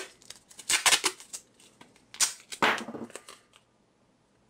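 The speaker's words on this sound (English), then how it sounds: "Take a small piece of duct tape" Duct tape pulled and torn off a roll for a small piece, a few sharp ripping bursts and crinkly tearing sounds up close, separated by short pauses and ending in quiet.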